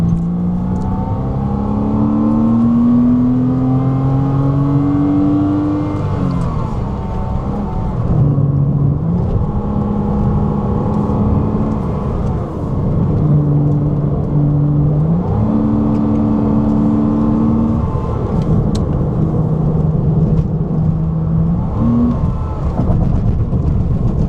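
A Porsche Cayman fitted with G10 suspension drives and corners, its engine humming steadily from inside the cabin, the pitch climbing, dropping and shifting through gear changes over about twenty-four seconds, with no talking.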